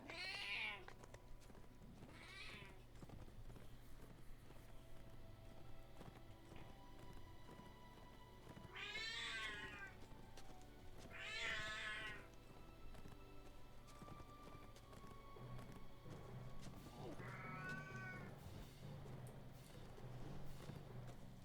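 Hags in the Vecna Saga of a video game let out repeated cat-like meows in several separate bursts over a steady, faint background hum, with no talking.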